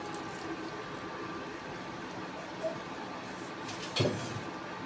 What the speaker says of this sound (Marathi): आता मी त्यात दूध घालत आहे